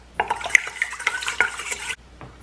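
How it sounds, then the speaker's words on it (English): A utensil stirs sugar into liquid for buttery sweet burger bun dough, with close clinking and scraping against a bowl in quick irregular taps for about two seconds, then stopping. "Stir. Make sure those sugar granules are dissolved."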